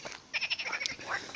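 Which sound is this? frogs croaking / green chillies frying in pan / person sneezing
frogs croaking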